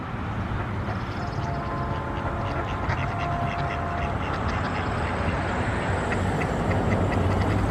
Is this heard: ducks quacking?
yes